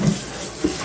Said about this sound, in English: All rinsing here.